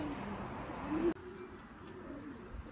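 Pigeons coo softly near a hen pigeon kept apart from the males. A low, rolling coo swells and then cuts off with a sharp click, followed by quieter murmuring coos against faint background noise.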